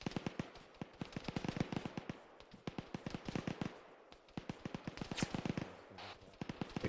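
Rapid gunfire from an Arma 3 squad training session, dense bursts of sharp rifle cracks and volleys repeating nearly continuously, some close and loud, others layered further off.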